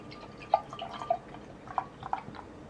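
Faint dark, thick beer, like an imperial stout, pouring into a glass, with soft irregular drips and splashes in a quiet room.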